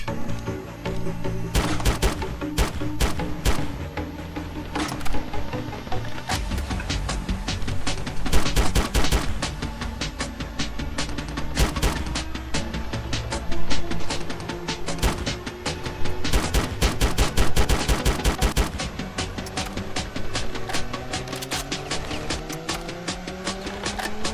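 Gunfire in the Ravenfield video game: a long, dense battle of rapid automatic bursts and single shots, some loud and close, others farther off, with occasional booms over a constant din.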